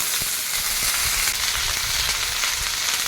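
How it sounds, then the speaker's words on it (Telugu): Loud, dense crackling sizzle of tempering spices frying in hot oil, steady and close, with occasional pops and no voices. "పోపు వేగిపోయింది."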